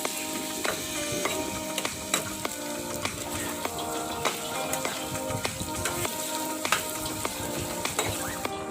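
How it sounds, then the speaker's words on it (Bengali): Carrots and capsicum fry with ginger, garlic and onion paste, a dense close sizzle broken by frequent sharp spatula scrapes and clicks against the pan, steady throughout with no talking. "বেশ কিছুক্ষণ ভাজার পরে লাল লাল হয়ে যাওয়া গাজর ক্যাপসিকামগুলোর মধ্যে 1 চামচ আদা বাটা, 1 চামচ রসুন বাটা ও 2 চামচ পেঁয়াজ বাটা মিশিয়ে নিলাম।"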